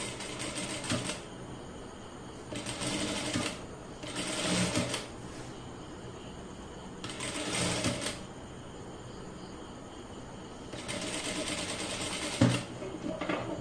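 A sewing machine stitches fabric in four or five separate runs of fast, even mechanical whirring, each a second or two long, close and moderately loud, with quiet pauses between them.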